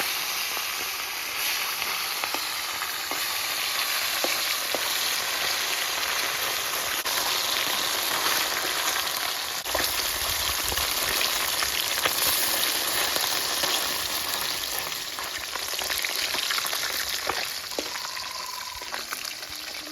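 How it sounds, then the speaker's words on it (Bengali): Bata fish frying in a pan, a dense continuous sizzle of hot oil crackling close by, steady throughout with small pops and occasional faint utensil taps. "মাছগুলো অল্প অল্প করে ভেজে নিতে হবে।"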